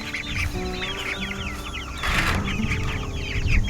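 Meat bird chickens in a cage cluck and chatter continuously at close range, with overlapping calls and a busier burst of clucking midway through.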